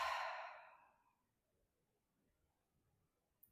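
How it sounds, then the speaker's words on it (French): A single soft, breathy exhale through the mouth during kundalini yoga breathing, fading out over about a second and followed by near silence. "Inspirer par le nez, expirer par la bouche."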